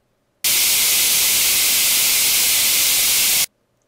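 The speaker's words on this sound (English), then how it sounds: "If I then add the noise between 2 kilohertz and 20 kilohertz," Band-limited noise from 2 to 20 kHz, a bright, thin hiss that starts abruptly after a short silence, holds steady and loud for about three seconds, then stops sharply.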